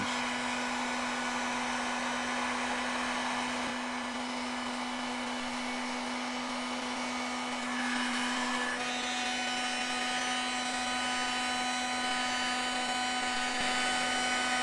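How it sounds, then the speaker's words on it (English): A heat gun blows hot air onto the ignition wire of a Suzuki GS450 scrambler motorcycle, a steady whining roar with a constant tone that shifts slightly partway through and runs on uninterrupted. "So I'm gonna fire the heat gun up and we're just gonna put some heat on here and see if we get it to change."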